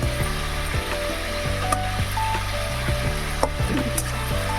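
Potato and eggplant fry and get stirred in a pan for a thin parshe fish curry, a steady sizzle with scraping stirs and occasional clicks running throughout at even volume, no talk.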